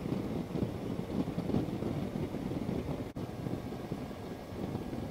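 Stock motorcycle engine at stage one tune with Rinehart exhaust, heard while riding on a smooth road; a steady, continuous low rumble mixed with wind buffeting across the whole stretch, with one brief dip near the middle.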